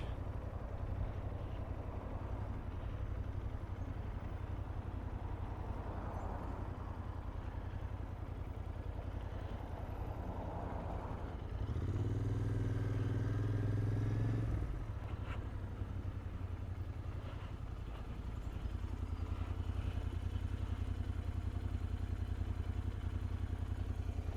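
A Royal Enfield Interceptor 650 motorcycle on a test ride, its engine drone buried under constant wind rush and briefly rising into a clearer, louder throaty hum for a few seconds midway.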